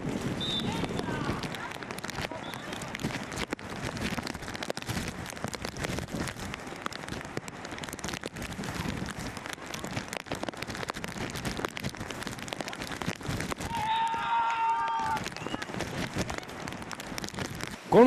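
Heavy rain patters steadily with gusting wind during an outdoor beach volleyball match in Pärnu, a dense hiss of drops running throughout beneath a commentator's talk.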